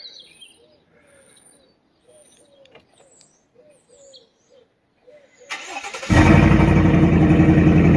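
A 2019 GMC Sierra Denali with a Corsa exhaust, running nearly straight-piped, fires up after quiet birdsong and settles into a loud, steady, close rumble.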